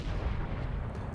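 In World of Warships, the German battleship Mecklenburg fires armor-piercing shells, heard as a deep, rumbling booming roar of heavy naval gunfire that fills the whole short stretch at a steady low level.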